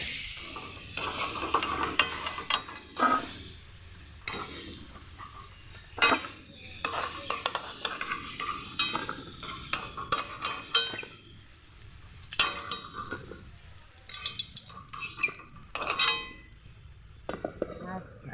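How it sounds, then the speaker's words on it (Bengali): Potato pieces fried to medium in hot oil in a kadai, with a spatula scraping and clinking against the pan as they are stirred and lifted out, bursts of metal contact over a soft sizzle. "আলুগুলোকে মিডিয়াম করে ভেজে নিলাম, এখন তুলে নেব"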